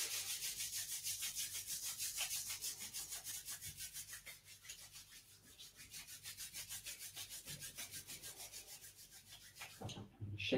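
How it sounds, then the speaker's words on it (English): Palms rubbing briskly together during a standing shiatsu warm-up, a continuous rhythmic swishing friction close by, fading slightly midway and ending with a soft clap or shake. "rubbing our hands together"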